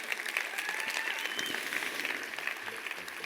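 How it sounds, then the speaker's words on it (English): An audience at a leadership session applauds two people being honoured, producing a steady, dense wash of clapping that holds at an even level for the whole stretch. "So massive round of applause to Lee and Anne-Marie Duffy."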